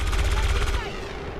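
Sustained rapid gunfire from overwatch shots in XCOM 2, loud and dense for most of the moment before tailing off into a ringing decay.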